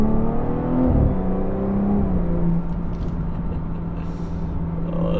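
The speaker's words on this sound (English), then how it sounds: "It's always gonna have a very nice pronounced exhaust note, which is of course nicely enhanced with this AWE axle back." A BMW F30 340i with the B58 engine and an AWE Touring axle-back exhaust drones loudly, its revs dropping then settling into a steady deep hum with a pronounced exhaust note.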